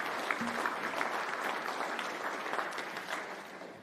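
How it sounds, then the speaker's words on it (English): Audience applause at the Fieldays Innovation Awards evening, honouring an award winner: a steady, dense wash of clapping from a large crowd that fills the whole stretch and fades slightly at the end. "Let's have another round of applause for Ruminant Biotech's Emitless"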